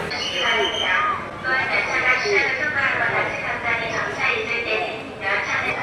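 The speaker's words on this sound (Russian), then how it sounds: "Прямо на рынок, дорогие друзья, заходит поезд." A train creeps slowly into a crowded Bangkok market, its low rumble and clatter mixed into steady crowd noise and nearby talking.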